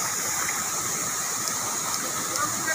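Steady broadband rush of a waterfall at a scenic nature spot, constant and fairly loud throughout with no breaks, the water noise filling the whole scene without any voices.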